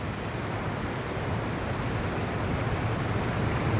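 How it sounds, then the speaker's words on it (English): Floodwater rushes through a desert creek bed that was dry sand, a dense, steady roar of churning water with no pauses, loud and continuous throughout. "Creek beds that have been dry sand for years become raging rivers in minutes."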